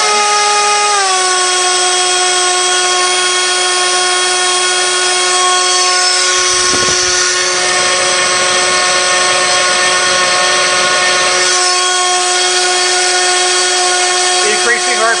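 Two brushless motors driven from a single ESC spin propellers under load, a steady high-pitched whine with strong harmonics rising in RPM, loud and continuous, with a burst of broadband rush as speed climbs.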